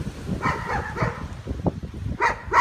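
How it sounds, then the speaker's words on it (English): A few dogs barking at a distance in short bursts, mixed with rustling and light wind outdoors. "You can hear the neighbours' dogs."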